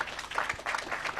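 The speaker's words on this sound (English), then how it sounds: "let's clap for them" An audience applauding at a live International Youth Day 2024 event, a brief burst of dense, fairly faint clapping from a crowd at some distance.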